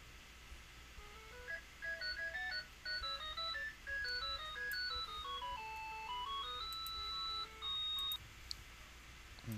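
A phone ringtone plays a stepped electronic melody of rising and falling beeps, moderately loud and close, repeating in short bursts with no talk.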